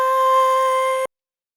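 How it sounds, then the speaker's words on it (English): A short vocal one-shot sample plays alone, a sustained sung tone with a bright, steady harmonic stack that holds for about a second and then cuts off abruptly into silence. "All I have is a little vocal one shot."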